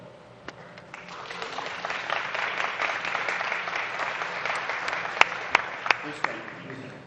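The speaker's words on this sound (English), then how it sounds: "it's okay to applaud for your country of origin" Applause at a citizenship ceremony as new citizens from Brazil stand. It swells from quiet to a steady patter and carries a few sharp, close claps near the end.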